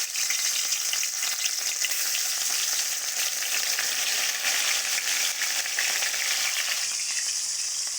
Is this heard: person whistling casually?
no